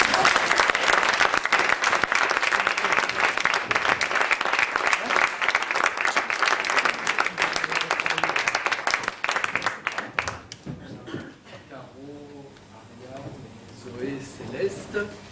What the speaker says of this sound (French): en mettre une petite couche pour les applaudissements